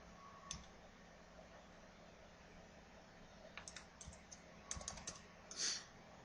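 Computer keyboard being typed on for a spreadsheet entry, soft quick key clicks coming in a few short bursts separated by pauses, quiet and near with a faint background hiss.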